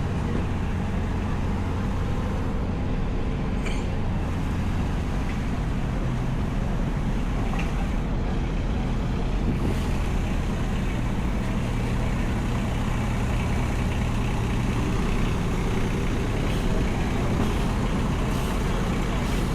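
Street traffic on a Cleveland, Ohio street at a movie filming site keeps up a continuous loud rumble as heavy trucks and cars pass close by, with a low engine drone running throughout.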